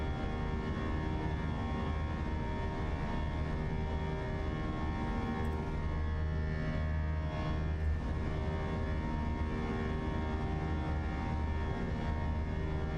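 Steady loud airliner engine roar from a Fenix A320 in a flight simulator, climbing out of Boston bound for Bermuda, a continuous broadband rumble with no speech over it.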